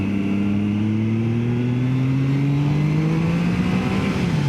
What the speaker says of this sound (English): Love the sound of the triple when you get it up into the revs.